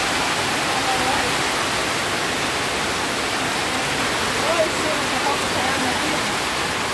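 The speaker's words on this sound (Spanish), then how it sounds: "Buen bombazo de agua," A heavy rain downpour makes a dense, even hiss that roars steadily for the whole stretch, close and loud with no letup.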